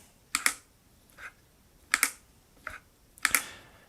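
A vintage Maxim box camera's shutter clicking several times, each release a sharp close double click, with fainter single clicks between them, unevenly spaced.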